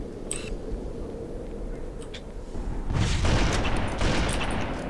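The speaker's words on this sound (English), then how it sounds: "You're shooting some very long range rockets." Rocket launcher fire and explosions in the Halo video game: a dense, continuous rumble of gunfire with a louder burst of booms partway through that stays heavy to the end, with no voices.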